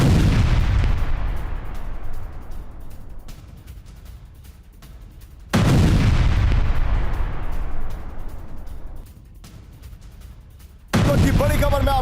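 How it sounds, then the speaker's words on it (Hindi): Explosions near the Russian front line in Donetsk: three heavy, booming blasts spaced a few seconds apart, each loud at onset and rolling away in a long decaying tail. "डोनेट्स्क में रूसी फ्रंट लाइन के पास विस्फोट हुआ"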